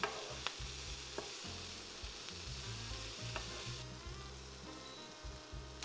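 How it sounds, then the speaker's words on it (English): Chickpeas frying in a pan, a steady dense crackling sizzle with occasional stirring clicks and pops, close and continuous throughout, no voices. "Let those beans dance around in the pan for a little bit, and they'll start getting more and more golden."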